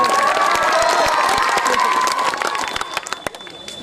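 An audience at an Imran Pratapgarhi poetry event claps and cheers, a loud dense burst of applause and shouts that tapers into scattered claps.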